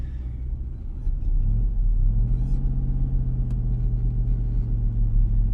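Pontiac Fiero fitted with a crate V8 engine being driven, a deep loud rumble that swells as it pulls away in first gear and then holds a steady throaty drone, heard close from inside.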